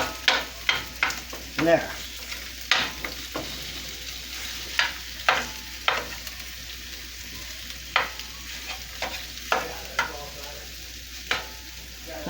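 Sausage crumbles sizzle in a frying pan while a utensil breaks them apart, giving repeated sharp scraping strokes at an uneven rhythm over a constant fry hiss, with a brief spoken word.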